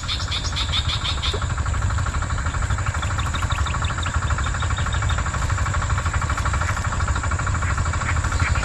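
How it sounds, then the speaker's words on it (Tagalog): A loud, steady engine drones nearby on a shallow, dried-out river during airgun fishing, a continuous rough mechanical hum with no pauses, heard alone without voices. "So maingay, puro makina po."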